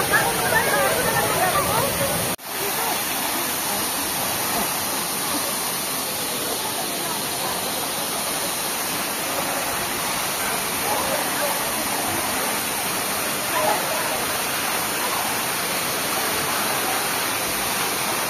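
A waterfall on a trip in South Cebu, a steady loud rushing roar of falling water filling the whole stretch, with people talking faintly underneath.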